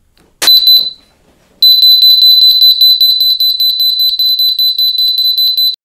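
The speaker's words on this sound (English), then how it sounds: "When activated, it emits a shockingly loud alarm." A Siren personal safety ring alarm gives one short piercing shriek, goes quiet, then sounds again as a loud, shrill, rapidly pulsing electronic tone that continues steadily up close.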